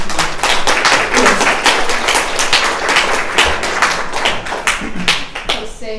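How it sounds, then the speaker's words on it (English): Applause from a small audience at a talk by teenagers on social media, mental health and yoga, a steady patter of individual claps lasting the full stretch, fairly close and loud. "So maybe a round of applause for the"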